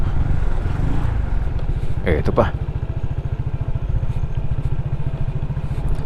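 A motorcycle engine on a mountain road putters with a steady, close idle-like throb throughout, with a brief voice partway through; locals ride Enduro and XRM mountain bikes here.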